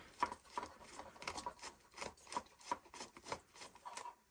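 Faint, repeated scraping and grinding as a screwdriver turns old, dirty screws on an Action Man toy, with about a dozen quick rasping strokes in an even rhythm.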